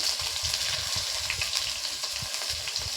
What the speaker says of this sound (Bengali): তেলের মধ্যে দিয়ে দেব কুচানো পেঁয়াজ, তার সঙ্গে দিয়ে দিচ্ছি